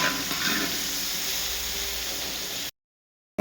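Ginger sizzles steadily in hot oil in a pan, a continuous loud frying hiss with steam, then cuts abruptly to silence near the end.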